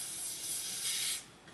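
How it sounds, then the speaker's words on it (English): Ebin Sensitive Adhesive Spray is misted onto wig lace in a steady hiss lasting over a second, close and loud, then trailing off abruptly. "This is the Eben Sensitive Adhesive Spray. Just side to side, 2 layers."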